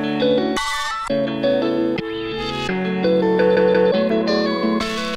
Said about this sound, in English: I also added on this channel a lot of distortion and OTT. Just kind of made it crunchy and weird sounding